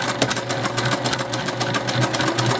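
A sewing machine stitches a scrunchie seam at a 3/8 inch allowance, giving a steady, close, continuous mechanical whir with a fast needle rhythm and no talking.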